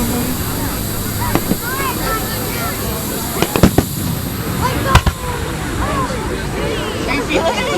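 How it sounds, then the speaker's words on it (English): A Liberty Fest fireworks display cracks and pops in scattered sharp bursts over a constant crowd hubbub, with several louder bangs standing out among the distant crackle. "The fireworks. It's like raining down."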